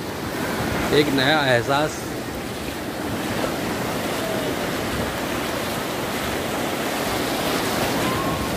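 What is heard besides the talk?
ocean waves breaking on the beach in Goa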